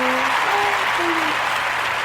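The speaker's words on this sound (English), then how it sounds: "I need those claps." Audience applause at a live comedy show, steady, dense clapping filling the room throughout, with faint voices calling out beneath it.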